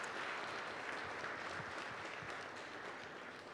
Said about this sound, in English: Rebecca Haycock and Kenny Whitebloom, please give them a huge round of applause